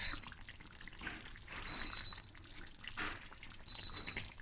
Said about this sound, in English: dan gaan my timer af